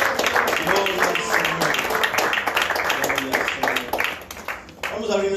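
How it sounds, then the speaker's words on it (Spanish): A church congregation breaks into lively applause, a dense crackle of hand claps mixed with voices calling out under it, sustained for several seconds before easing off. "Un aplauso para el Señor."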